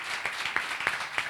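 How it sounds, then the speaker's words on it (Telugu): Congregation at a Telugu church sermon claps in a few distinct, evenly spaced bursts, fairly faint and distant against a steady room hiss. "గట్టిగా చప్పట్లు కొట్టండి"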